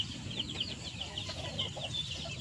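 Chickens clucking in newly built pens, a run of short, close clucks and chirps over a low steady background.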